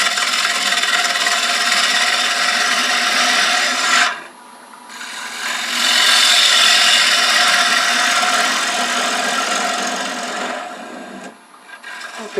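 Heavy bowl gouge cutting wood on a spinning lathe while turning a paten, a loud continuous rasping shave that pauses briefly twice and then resumes, with no talking.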